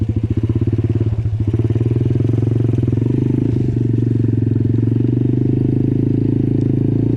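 An Apollo DBX18 dirt bike easing through a muddy trail, its single-cylinder engine putting out a close, steady low thumping chug at modest revs with a slight dip midway.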